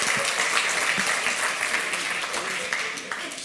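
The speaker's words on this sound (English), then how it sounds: "give him a round of applause" Warm burst of audience applause in a conference hall for a security talk speaker, dense steady clapping from many hands, fairly close and loud, fading slightly toward the end.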